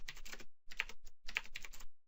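Bursts of close, crisp keystrokes on a computer keyboard while code is typed, falling in three quick clusters separated by short pauses, with no talking.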